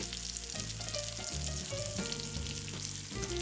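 Homemade meatballs searing in a hot pan give off a steady, dense sizzle, with occasional scraping and clinks of a spoon mixed in.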